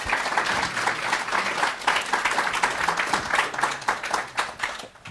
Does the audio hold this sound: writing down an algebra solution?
no